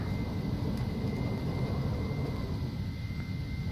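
A Phenom 300 jet at max power on its takeoff roll, a steady broadband roar with a thin high whine held at constant level, heard from inside the cabin.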